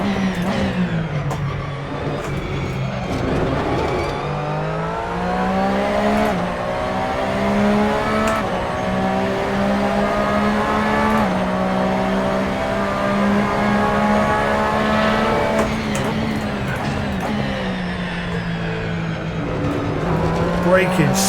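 Race car in the Assetto Corsa sim, its engine revving loud and near through repeated upshifts and downshifts with rising and falling pitch and faint tire squeal, a voice talking intermittently over it.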